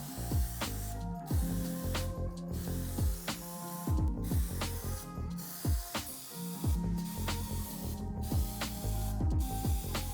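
Plasti Dip aerosol coating is sprayed onto the emblems of a 2019 Mazda MX-5 Miata 30th Anniversary in a series of short, close hissing bursts at a fairly regular rhythm, with faint clicks and rattles between them.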